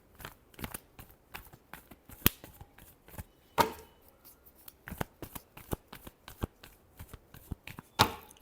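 Tarot cards are shuffled close up in a series of crisp riffling and snapping bursts, some sharp and loud, repeating irregularly over a quiet background.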